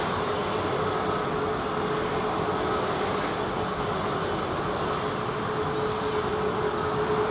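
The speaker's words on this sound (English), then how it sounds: "Airbus A350-900." An Airbus A350-900 at London Heathrow Airport gives off a steady, loud broadband engine roar with a faint whine, holding constant throughout with no speech.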